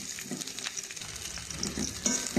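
A pan of jujubes frying with garlic being stirred steadily, a low steady sizzle with light scraping and clinking of the spoon, close by and with no voices.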